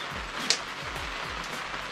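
Steady rain falls outdoors in a garden, a continuous hiss of drops with one brief louder patter near the start, and no one speaking.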